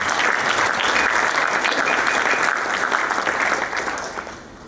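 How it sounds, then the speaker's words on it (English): Dinner guests at a groundbreaking ceremony give a sustained round of applause, dense clapping filling the room steadily before thinning out toward the end. "I think that deserves a round of applause"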